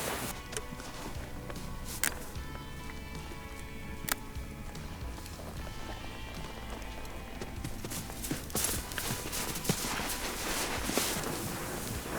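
Steady clip-clop of hooves on hard ground, several horses moving at a walk with scattered sharper knocks, no talking.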